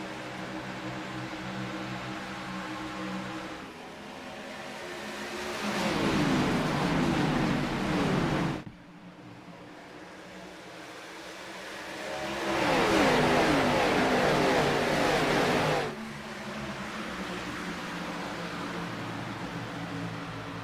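NASCAR stock cars racing at Nashville, engines roaring past in two loud swelling waves that fade back to a steady distant drone.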